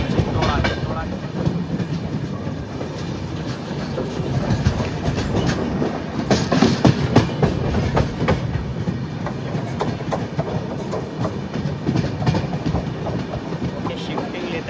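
Passenger train on the Danapur to Secunderabad run, nearing Sevagram junction: steady rumble of wheels on the rails with clickety-clack joint beats throughout, heard from inside the carriage and slowing slightly, with no talk over it.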